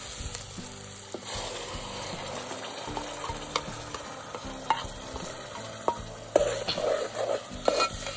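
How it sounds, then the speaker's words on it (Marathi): Masala is stirred into a pan of tomatoes on a wood-fired stove, a soft continuous sizzle with scraping spoon strokes and occasional clinks, close and alone without talk. "आता त्याच्या बाद आपण मसाला टाकणार आहोत त्याच्यात."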